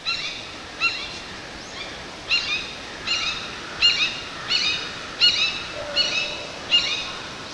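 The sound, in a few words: red-shouldered hawk call, a shorter kia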